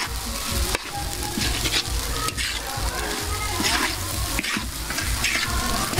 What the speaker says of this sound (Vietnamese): Các bạn khi mà mình chiên lên thì nó sẽ phật cái mùi thôi.